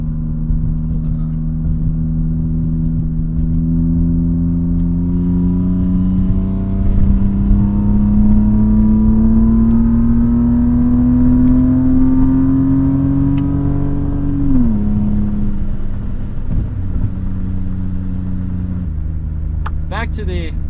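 An automatic BMW E36 M3 engine hums steadily while cornering, its tone rising gradually then dropping sharply as the car eases through the bend, with a voice talking over it.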